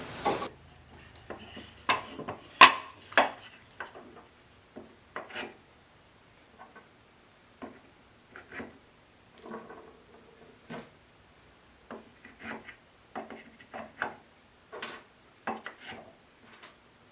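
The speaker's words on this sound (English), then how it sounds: "Use a little bit of sanding" Sandpaper rubbing on a wooden drill bit case, a series of short scratchy strokes in an irregular rhythm, close and fairly quiet, with pauses between passes.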